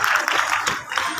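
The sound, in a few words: audience applause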